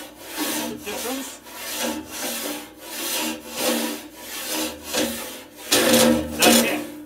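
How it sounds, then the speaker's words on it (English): Long handled rasp scraping back and forth inside a metal organ pipe to clear solder drips, a steady rhythm of rough rubbing strokes roughly once per second, close and alone, with a harder hit near the end. "You hear the gliding, well, not really gliding, but sort of the sliding sound versus when it actually hits a drum."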